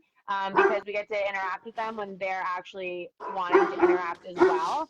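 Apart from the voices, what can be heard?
dog barking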